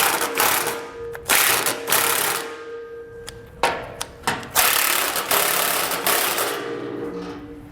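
Mechanical ratcheting and clicking from a ratchet wrench loosening 15mm head bolts on a 2021 Ford Ranger during a base plate install. Uneven bursts of working metal noise come close up with brief pauses and no talking.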